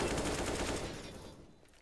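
Rapid automatic gunfire from a Counter-Strike: GO esports match, a dense burst of shots that is loud at first and then tails off, with no talk over it.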